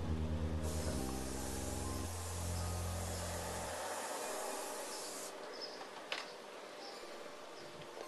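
A spray can hisses as it impregnates a new convertible top on a small car in a workshop, a continuous broadband spray, loud at first and then fading into quieter hissing, with a low mechanical hum early on.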